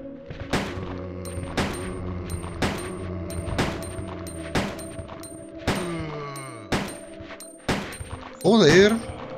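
Sharp gunshots in Resident Evil 2 on PS1, in the sewers, ring out one at a time at irregular intervals, each with a short metallic echo, followed by a brief chirpy effect.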